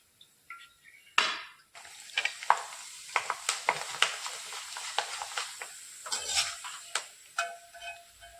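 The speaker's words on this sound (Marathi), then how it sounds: "आता थोडा थोडा किस आपण तळून घेऊ" Grated potato shreds dropped into hot oil, frying with a soft steady sizzle broken by sharp crackles and pops, and a burst of spattering as each batch goes in.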